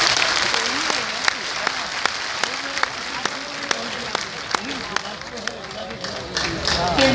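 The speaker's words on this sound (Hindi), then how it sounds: "एक बार तालियां फिर से जोर से बजा लें आप सभी।" A crowd at a Hindi spiritual fair in Gurugram claps loudly and steadily throughout, with a voice speaking over the applause and sharp individual claps standing out.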